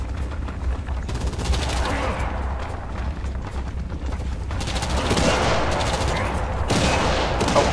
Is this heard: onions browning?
no